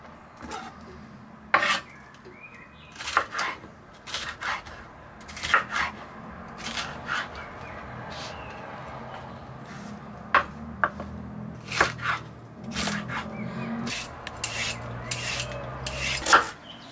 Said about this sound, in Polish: Kroimy na dosyć duże kawałki